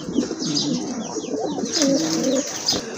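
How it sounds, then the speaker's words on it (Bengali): Pigeons in a loft coo repeatedly, several overlapping low rolling calls close by, with a few faint chirps mixed in. "আরেক জোড়া কবুতর"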